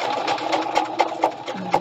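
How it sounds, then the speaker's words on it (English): A sewing machine runs a straight stitch in one continuous, close mechanical whir, with rapid needle ticks and a few louder knocks along the way. "So just run your machine"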